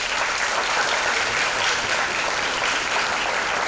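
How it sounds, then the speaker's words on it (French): Audience applause rises in a dense, steady wash of clapping from a crowd at a start-up presentation, loud and sustained with no voices over it. "ça s'applaudit s'il vous plaît."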